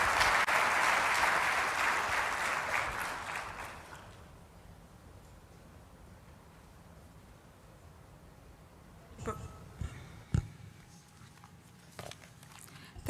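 A conference audience at a medical education opening ceremony in Uganda breaks into loud applause that fades out after a few seconds, followed by quiet room tone and a few scattered knocks.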